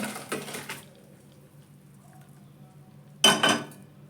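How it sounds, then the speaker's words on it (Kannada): A cooking pot of boiled greens and lentils being tipped and scraped, two bursts of clattering metal scraping, a short one at the start and a louder one near the end, separated by a quiet pause. "ಪಾತ್ರೆ ಬಗ್ಗಿಸ್ಕೊಂತ ಇದ್ದೀನಿ"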